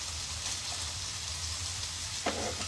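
A crêpe frying in a hot pan, a faint, steady sizzle with a low background hum and a brief clink near the end.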